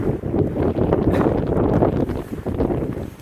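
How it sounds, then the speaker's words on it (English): Strong, steady wind buffets the microphone on a Pacific Crest Trail section near the I-10 underpass, a loud, continuous low roar with gusty swells and no voices. "So, sorry about the wind."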